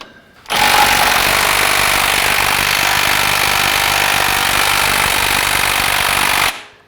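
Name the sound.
impact wrench loosening a car crank bolt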